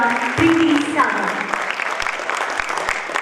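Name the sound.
audience applause at theatre performance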